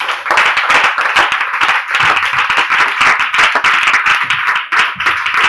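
A church congregation applauding for the Lord, dense rapid clapping from many hands, loud and sustained with a brief dip near the end.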